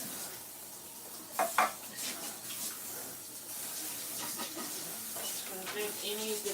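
Water sloshing and splashing as collard greens are rinsed in a pot, faint with irregular swishes and a couple of sharper splashes.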